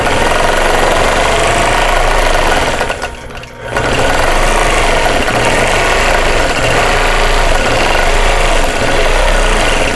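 A longarm quilting machine in stitch regulated mode stitches an English ivy quilt, its motor humming and needle pulsing steadily up close and fairly loud, with one brief pause partway through.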